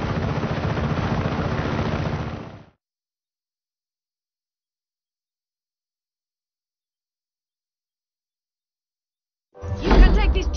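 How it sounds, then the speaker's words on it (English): Helicopter in the video game Just Cause 3: a loud, steady rotor and engine roar for about two seconds, then total silence, and the noise returns briefly near the end. "You can take this chopper, Fratre."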